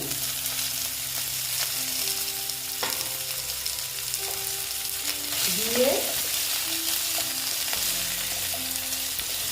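Pumpkin, potato and eggplant pieces fry in a pan with a loud, steady sizzle, broken by stirring scrapes and a brief spoken word.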